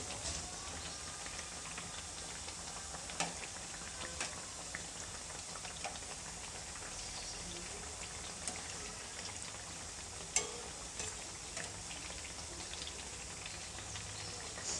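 Masala vada fry in hot oil and are turned over, giving a continuous, soft bubbling sizzle with occasional faint taps and clicks, heard alone with no talk.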